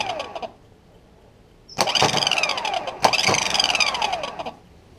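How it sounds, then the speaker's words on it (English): A VW Golf Mk4 starter motor on the bench, powered from 12 volts, whirs up in two loud bursts of high-pitched spinning, each winding down, with a brief quiet gap between. "we apply 12 volts to this connector, and you'll see the sprocket coming out and starter motor spinning like that"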